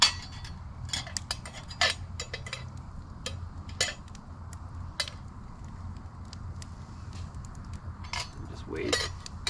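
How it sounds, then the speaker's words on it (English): Dishes and cutlery being handled at a car campsite, scattered close clinks and clatters of metal utensils and pans at irregular intervals over a low background rumble. "Now I gotta do dishes."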